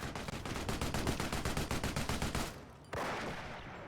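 Machine gun in the Company of Heroes video game, EF mod: a rapid, evenly spaced stream of shots for about two and a half seconds, then a short pause and a softer rumbling burst.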